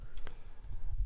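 A short burst of a few sharp key clicks from a computer keyboard, close and fairly quiet, clustered at the start before a low background hum takes over.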